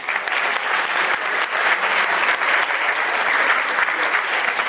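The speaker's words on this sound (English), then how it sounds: "give a round of applause for all those amazing honorees" A crowd at an Iftar dinner gives a dense, sustained round of applause for the evening's honorees, steady and full throughout without a break.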